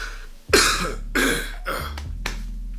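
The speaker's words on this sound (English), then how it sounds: "I cough a lot, my lungs are jacked up." Three or four harsh, chesty coughs in close succession, loud and near, with short pauses between bursts and no talking.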